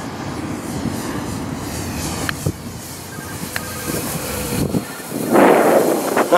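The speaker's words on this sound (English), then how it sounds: "here comes the great Waldo Pepper. Man, it's a good looking plane. And it flies smooth." A radio-controlled model plane, a customized Dynam Peaks, passes overhead with a smooth, steady engine drone mixed with wind rush, building louder near the end as it comes closer.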